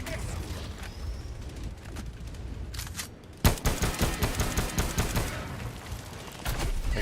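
Machine gun fire in a video game: a dense, sustained burst of rapid shots erupts abruptly partway through and keeps rattling loudly over a busy background.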